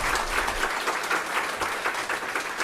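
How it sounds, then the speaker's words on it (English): A conference audience at a FlutterNinjas developer session applauds the speaker, dense continuous clapping filling the room for a few seconds at fairly high level. "please give a big round of applause to him"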